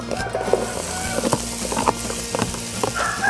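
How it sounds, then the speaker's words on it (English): Tomatoes, shallots and chilies sizzle and crackle in hot oil, a steady bright hiss with scattered pops and clicks throughout. "Make sure you hear it sizzling."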